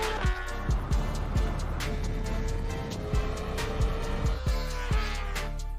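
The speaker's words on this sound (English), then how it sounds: "The M1000RR explodes forward, front wheel dancing in the air." BMW M5 CS all-wheel-drive car and BMW M1000RR superbike accelerating hard side by side in a drag race, engines revving high with repeated sharp gear-shift bursts and a steady loud roar.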